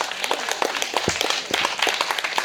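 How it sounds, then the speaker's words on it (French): Outdoor audience in La Rochelle clapping for Pichu of France Bleu, scattered claps with a few sharp louder hits, fairly faint and uneven, with some crowd noise around. "Vous pouvez l'applaudir"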